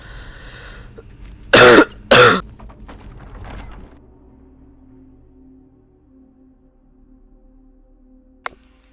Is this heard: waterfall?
no